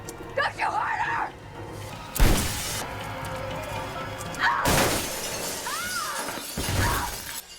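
Glass shatters in a scene from the 2009 horror film Orphan, with a sudden loud crash around the middle amid dialogue, shrieks and music.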